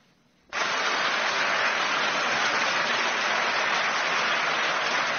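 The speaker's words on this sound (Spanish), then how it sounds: "Un gran aplauso, un gran aplauso emotivo" A chamber full of people in the European Parliament bursts into sustained, emotional applause after a vote passes, a dense wash of clapping that starts abruptly and holds steady at full strength.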